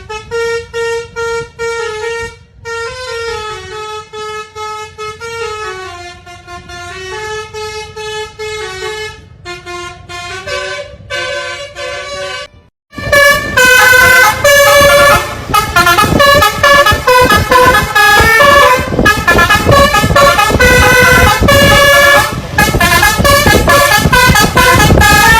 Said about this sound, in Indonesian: Nah ini dia bus Basuri warna kuning, pelopor suara telolet.